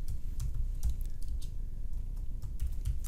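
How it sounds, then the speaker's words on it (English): Rapid keystrokes on a computer keyboard while entering a record into a lead-tracking tool, clicking steadily and close throughout, with a few heavier key hits near the end. "So just type in that and then hit enter"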